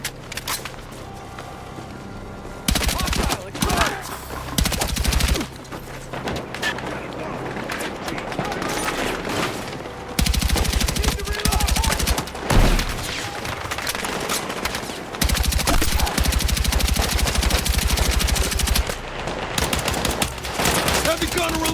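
Sustained machine gun fire from the video game Battlefield 6 during a night raid mission, dense rapid bursts in several long stretches with brief pauses, loud and close, with shouted voices mixed in.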